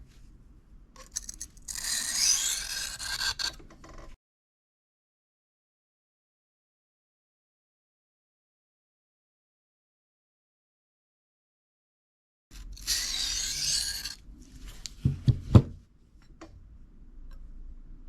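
Knife strokes scrape and rasp across a Kitanis 1,000 grit diamond plate in two close bursts of rubbing, separated by a long silent pause, with a few sharper ticks near the end.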